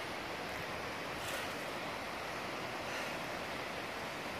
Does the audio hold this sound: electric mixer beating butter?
no